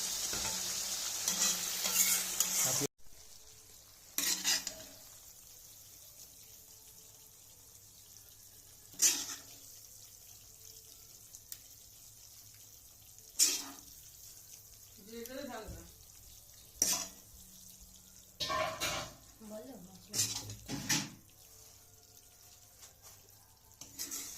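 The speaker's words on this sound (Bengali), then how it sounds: "আদা, জিরে, শুকনো লঙ্কা, তেজপাতা দিয়ে এবার একটু কষছি।" Ginger, cumin, dried chilli and bay leaf sautéing in oil for khichuri, a faint low sizzle broken by scattered spoon knocks and clatter, close by with no voice.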